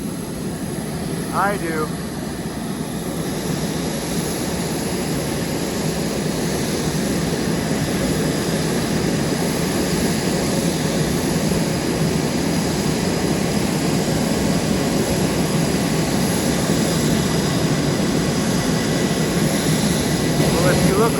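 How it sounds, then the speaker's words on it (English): Blue Angels jet aircraft roar steadily overhead at an air show, a loud continuous engine drone for the whole stretch, with brief talk near the start. "You hear those jets?"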